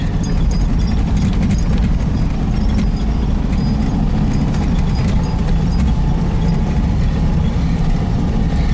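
A 1971 VW Type-3 Squareback 1600 engine pulls hard in second gear while driving, a loud, steady, deep rumble that fills the whole clip without a break.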